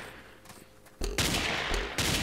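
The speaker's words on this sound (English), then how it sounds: "I hear snipers firing." Sniper rifle fire rings out in the Ace of Spades video game, with quiet ambience giving way to a sudden loud burst of sharp, overlapping gunfire that lasts about a second, then a second burst.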